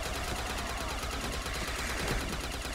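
Rapid automatic gunfire from a gun in Black Ops Custom Zombies rattles continuously in a fast, even stream of shots, fairly quiet and unbroken throughout.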